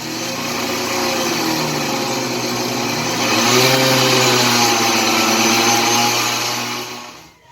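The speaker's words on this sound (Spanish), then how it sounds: "La energía también es utilizada para los diferentes electrodomésticos que tenemos en nuestra casa. Por ejemplo, la licuadora." A household kitchen blender whirs steadily for several seconds with a bright, buzzing motor hum and no talking, swelling slightly midway before cutting off abruptly.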